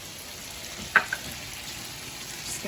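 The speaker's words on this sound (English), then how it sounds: "now we're gonna start adding all these ingredients to our little saute as well, so all the flavors could simmer together" A pan sauté of tomato and sauces sizzles with a soft, steady hiss, with a single small clack near the start and no talking.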